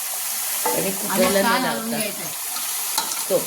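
Village chicken pieces hit a pan of fried onions and sizzle loudly while being stirred, a steady close frying hiss with someone talking over it.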